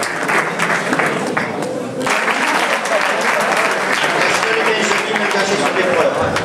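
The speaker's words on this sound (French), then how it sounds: "Les applaudissements du public pour Damien Roux, Raphaël Cabaye, Dylan Daguerre." A crowd at a cycling race award ceremony claps for the winners, a dense, lively burst of applause with scattered voices mixed in, steady and fairly loud throughout.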